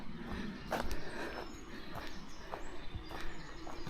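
Horses walk nearby on a path along the Cumbria Way between Caldbeck and Carlisle, hooves clip-clopping in an uneven, moderately close rhythm over outdoor ambience.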